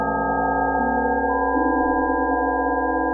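Spider web structure rendered as music: sustained pure electronic tones stacked in layers, with new pitches entering and others dropping out in steps, steady and loud.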